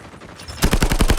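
A machine gun in an online shooter fires a short, loud burst of rapid shots in a steady rhythm after a brief quieter lead-in, with no talk over it.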